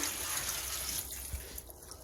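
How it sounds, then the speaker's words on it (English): Running water rinses a pressure cooker insert at a kitchen sink, a faint, steady hiss and splash with no voices. "That was just the pressure cooker insert that I washed"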